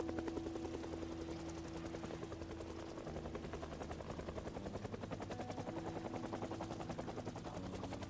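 A video game helicopter's rotor thumps in a fast, steady rhythm with a droning engine hum, fairly quiet and continuous throughout.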